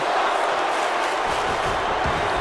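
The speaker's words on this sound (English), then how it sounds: "The crowd is getting hyped for this." Dense arena crowd noise from a WWE 2K wrestling match, a steady loud roar of cheering with no breaks across the clip.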